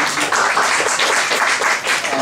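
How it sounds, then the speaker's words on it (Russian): Dense audience applause fills a round-table discussion hall, loud and steady from start to finish with no pauses. "Аплодисменты, которые сейчас звучат"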